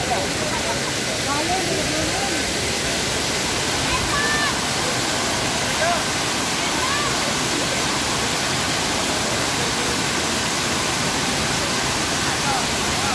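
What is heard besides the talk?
Benang Kelambu waterfall in Lombok rainforest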